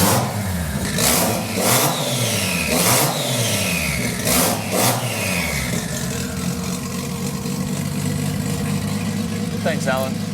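A Datsun 240Z fitted with a Nissan GT-R engine revs loudly and close by in a garage, its pitch rising and falling in several quick blips before settling toward idle, with voices talking over it.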